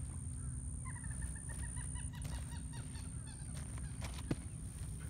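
A sick limpkin gives a short series of honking, goose-like calls against steady background noise, with a sharp sound near the end.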